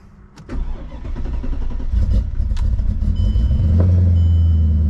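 A supercharged Mercedes CLK55 with the M113K engine cranks over after sitting for weeks on a flat battery, catching and settling into a loud, steady low rumble close by.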